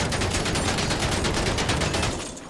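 Rapid, continuous gunfire in a video game as shots are aimed behind a car's rear wheel at the fender, a dense unbroken stream of close, loud reports that fades out at the very end.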